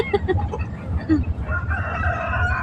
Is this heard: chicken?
yes